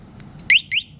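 A motorcycle security alarm gives its lock signal as two short, bright electronic chirps in quick succession, close and clear over a quiet background.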